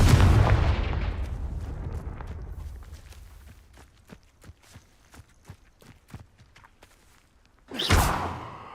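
In Hogwarts Legacy, a Confringo fire spell lands with a loud booming blast that rumbles and fades. A run of light footstep-like taps follows, then another sharp burst closes the sequence.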